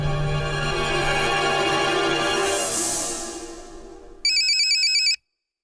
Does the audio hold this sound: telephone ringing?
yes